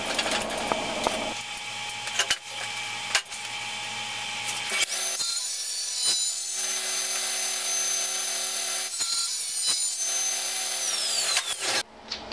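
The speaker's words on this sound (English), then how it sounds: "I'm just going to rough this into shape with my small roughing gouge." A wood lathe spins a peppermill blank while a small roughing gouge cuts it, giving a loud, continuous whirring and high ringing tone broken by several sharp catches and a sudden stop at the end.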